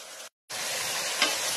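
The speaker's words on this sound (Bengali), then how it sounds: "এই যে কাঠের খুন্তি দিয়ে নাড়াচাড়া করে নিচ্ছি, শাক যাতে না খাই।" A wooden spatula stirs greens and khichuri in a hot pan, giving a steady scraping sizzle that cuts out for a moment and then resumes.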